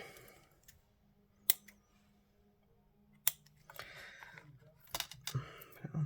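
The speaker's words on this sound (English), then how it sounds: "Ribbon scissors." Two sharp, crisp snips of ribbon scissors cutting ribbon a couple of seconds apart in a quiet room, followed by soft rustling and handling noises.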